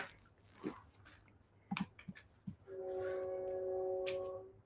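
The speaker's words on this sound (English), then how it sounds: "you can hear the choo-choo train out there too" A passing train outside sounds its horn as a steady, fairly loud multi-tone blast lasting about two seconds near the end, after a few scattered clicks and knocks nearby.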